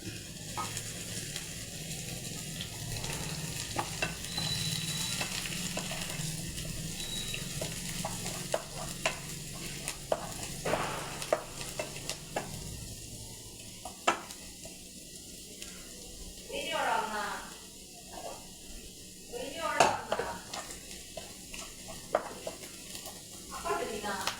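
Curry leaves frying in ghee and coconut oil for upma, a soft ongoing sizzle with frequent spoon scrapes and metal clinks against the pan, fairly quiet and close, with scattered pauses between stirs.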